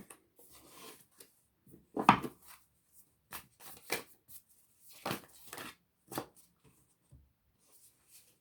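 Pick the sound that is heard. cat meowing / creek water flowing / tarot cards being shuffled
tarot cards being shuffled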